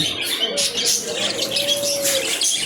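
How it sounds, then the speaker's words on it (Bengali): Budgerigars in an aviary crowded with cages at a bird house keep up a dense, continuous chatter of chirps and twitters, close and fairly loud. "এখানে বাজিগর আছে,"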